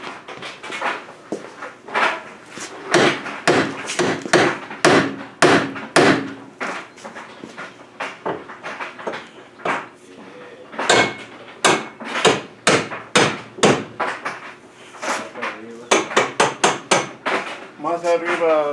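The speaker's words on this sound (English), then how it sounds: "we know we're using a big hammer" A big hammer with a donut strikes repeatedly at a building from 1952, a long run of loud, close, sharp blows in an uneven but steady rhythm with brief pauses.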